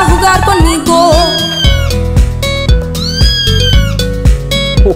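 Sung cat meows from a kitten in a Spanish children's song about bathing together, repeated melodic meow-like calls over steady music backing, loud and close, with a voice likely imitating the cat.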